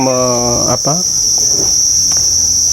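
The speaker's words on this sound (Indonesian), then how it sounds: "budidaya jangkrik saya jalani" Crickets chirp steadily at a cricket farm, a dense continuous insect trill that stays loud throughout, with a brief voice-like sound near the start.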